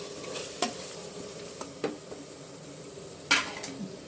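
Coriander, mint, green chili and tomato are sautéed in a pan for prawn biryani, giving a low steady sizzle with a few sharp scrapes and clinks of the stirring spoon.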